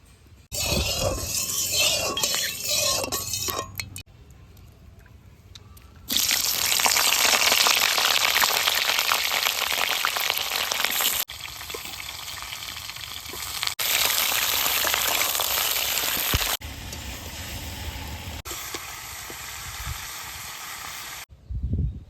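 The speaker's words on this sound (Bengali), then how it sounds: "কেটে রাখা ফুলকপিগুলো ভেজে নেব সর্ষের তেল" Cut cauliflower frying in hot mustard oil, a loud, dense, rain-like crackle that surges and eases in several long stretches, with no talking over it.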